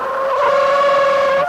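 Tires of an old Toyota 4x4 pickup without anti-lock brakes squeal and skid under hard braking, a loud, sustained, tonal screech held steady.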